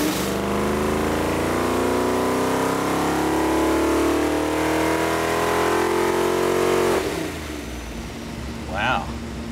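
Alcohol-fueled 383 small block Chevy V8 on an engine dyno, roaring loudly at sustained high revs for several seconds before cutting off abruptly into a lower idle rumble.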